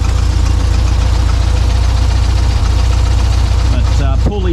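A Volkswagen 25hp engine in a 1952 barn door ambulance idles loudly and steadily up close, with a low throbbing knock throughout and a brief shift in tone at the end; a voice talks faintly over it.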